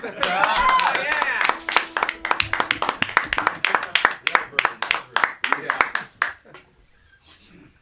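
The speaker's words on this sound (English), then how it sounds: "thank you very much for the clapping and the singing along" Following a song at a live comedy and music show, an audience claps in a rhythmic, fairly even beat for several seconds, with a voice over the start, before the clapping thins out and fades.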